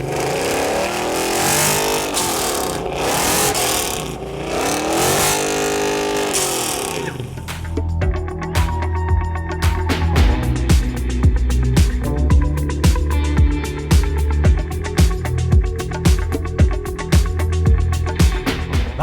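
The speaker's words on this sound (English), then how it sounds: "So he's gonna start it up for us." Car engine starting at an outdoor car show, with loud repeated revving and throttle blips that build into deep, rumbling bursts after a noisy crowd buildup, close and dominant over background chatter.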